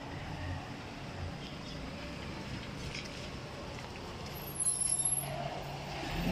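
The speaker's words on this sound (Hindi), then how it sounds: "ये जी आ गई है गाड़ी।" A vehicle pulls up in a rumbling, noisy street scene, its broadband engine and road noise steady throughout, then a sharper hiss of brakes near the end as it stops.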